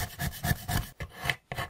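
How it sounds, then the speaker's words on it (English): Knife blade scraping and rasping across wood in short, steady carving strokes, close and fairly quiet, with a slight pause before the last few strokes. "The sound of his knife on the wood just really relaxed me."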